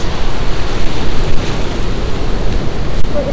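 Heavy high-tide surf on the California coast along Highway 1, heard as a loud, steady roar of breaking waves mixed with gusty wind buffeting the microphone.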